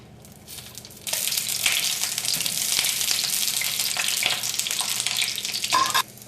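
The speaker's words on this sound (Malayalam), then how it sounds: "ചൂടായ എണ്ണയിലേക്ക് നമുക്ക് ബ്രിഞ്ചാളിടാം." A sudden loud sizzle as brinjal drops into hot oil, then steady crackling frying for several seconds, with a clink of a utensil near the end.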